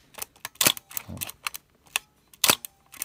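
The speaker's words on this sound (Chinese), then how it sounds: "那这快门连也都是正常的哈，可以看一下。 哦，快门连都正常可动。" A Minolta SRT Super mechanical film SLR camera fired repeatedly, giving a series of sharp, close mechanical clicks in uneven rhythm, with a brief spoken word at one point.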